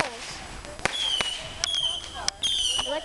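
Backyard fireworks go off at a home in July: sharp crackling bangs and whistling whines at close to mid range, several bursts in quick succession, with people talking over them.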